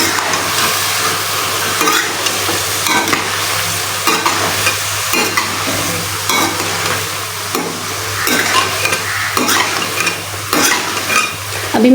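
Potato and eggplant curry with garlic paste stirred and frying in a pan, a steady loud sizzle with repeated scraping stir strokes throughout, no voices.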